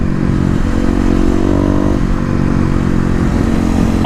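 Kawasaki KLX250 motorcycle accelerating close by, the single-cylinder engine holding a loud, steady droning note that rises slightly in pitch through one pull, with no talking over it.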